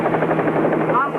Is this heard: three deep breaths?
no